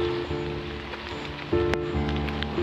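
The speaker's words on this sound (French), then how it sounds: "il pleut à verse" Heavy downpour beside the Canal du Midi in the Hérault, heard while cycling, a steady dense hiss of rain drumming on surfaces with a low continuous hum beneath it.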